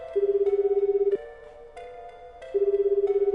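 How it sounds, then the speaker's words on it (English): Electronic telephone ring from the video game 428: Shibuya Scramble, two loud, steady pulsing bursts separated by a quieter tonal gap, with no one speaking over it. "Phone rang several times before a sleepy voice finally answered."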